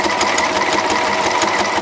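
A sewing machine topstitches the bias binding and tie on a gilet, running in a loud, close, steady rapid whir for the whole stretch with no talking.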